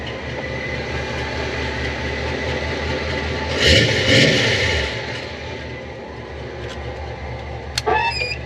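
A 1972 Monte Carlo with freshly rebuilt rear suspension, new springs and shocks, drives on a test run, giving a steady engine and road rumble that swells briefly midway and ends with a few clicks.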